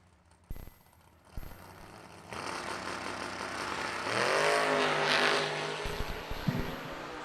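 A Camaro drag race car launching and accelerating hard down the strip, its engine noise swelling loud with a rising roar over a broad rushing wash, then fading, with no talk.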